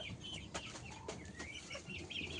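White chickens on a poultry farm cluck and chatter continuously at close range, several birds overlapping in short, restless calls.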